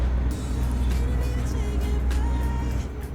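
A truck engine runs steadily inside the cab in Euro Truck Simulator 2, a loud, continuous low rumble with no breaks.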